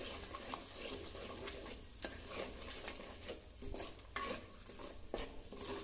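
Ground onion and dry coconut masala being sautéed in oil in a pan for Maharashtrian egg curry, with steady close sizzling and repeated scraping strokes of a spoon against the pan.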